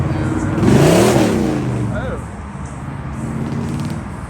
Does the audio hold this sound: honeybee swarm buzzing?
no